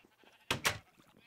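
A sheep in a video game gives two quick, close bleats in succession, loud against a quiet background, with no talking.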